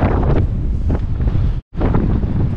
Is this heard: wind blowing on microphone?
yes